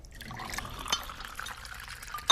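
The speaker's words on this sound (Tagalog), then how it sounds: "Lalagyan ko ng tubig." Water is poured into a container during a family meal scene, a soft continuous liquid trickle with faint clinks near the end, fairly quiet and close, with no talking over it.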